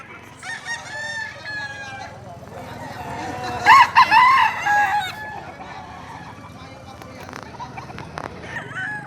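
Roosters from Taal, Batangas crow loudly at close range, one long cock-a-doodle-doo standing out amid clucking chickens and other calls, while people talk throughout.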